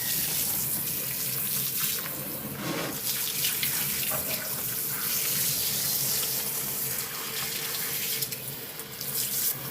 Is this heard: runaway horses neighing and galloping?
no